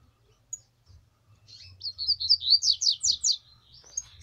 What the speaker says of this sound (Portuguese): Esse passarinho é bom, cara.